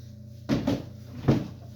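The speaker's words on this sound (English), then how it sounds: "Then I rig this up, pull out. It's a drawer on wheels" A wooden drawer on wheels, loaded with firewood and stored under a couch in a garage, is pulled out with two rolling, knocking thuds and then a third heavier bump, heard alone.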